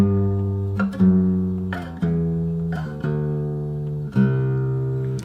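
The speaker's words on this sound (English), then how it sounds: "So the bass line is like this." Plucked fingerstyle guitar bass notes from a song intro played one at a time, about one per second, each ringing and sustaining before the next, alone with no talking.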